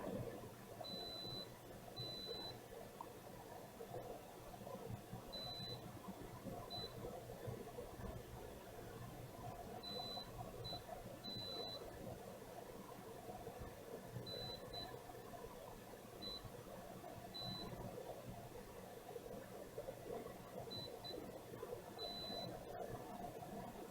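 A multimeter gives short, repeated high beeps as a continuity test runs through filters on a mangled board with ports. The beeps come in irregular single and double bursts over a steady background hum, and no one speaks.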